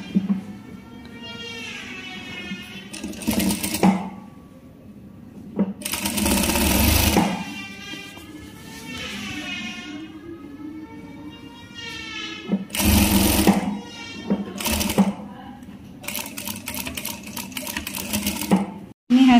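A sewing machine stitches the cuff of a men's shirt in several short bursts of fast mechanical clatter, close by, with an instructor talking quietly in between.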